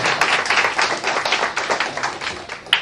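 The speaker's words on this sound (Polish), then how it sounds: "gorące brawa dla Norberta." Applause and clapping from a crowd greeting a fighter at a weigh-in before the Fight Night 4 gala, a steady patter of clapping filling the short clip, with no speech over it.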